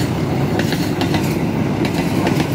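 A passenger train rolls past on the rails at a meeting point, a loud, close, continuous rumble with rhythmic wheel clatter throughout and no talking.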